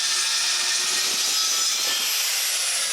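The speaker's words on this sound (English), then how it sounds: "I cut it with the track saw" A track saw rips along the edge of a board during closed-bookcase building, a steady, loud, high whine that holds without a break for the whole stretch, with no talk over it.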